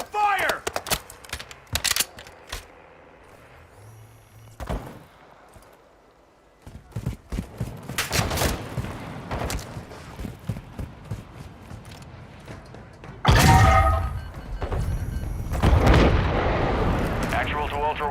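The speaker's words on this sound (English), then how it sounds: "Taking fire! Taking effective fire!" Gunfire and explosions from the video game Call of Duty Warzone 3 DMZ: scattered sharp shots and bursts build to heavy booming blasts, with radio voices talking in between.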